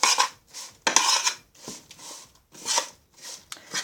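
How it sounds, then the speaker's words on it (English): A spoon stirs shredded coconut into vegan muesli in a bowl, making close, repeated scraping and clinking strokes separated by brief pauses. "So just scatter that on top and then stir it in."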